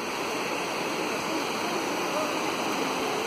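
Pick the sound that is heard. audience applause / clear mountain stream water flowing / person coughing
clear mountain stream water flowing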